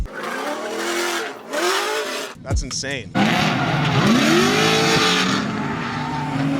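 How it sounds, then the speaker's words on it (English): A 650 hp LS7 V8 in a Nissan S14 pro drift car revs hard to about 7,500 RPM, rising in pitch, loud and close, after and under a few excited spoken words. "that makes this engine sound the way it does"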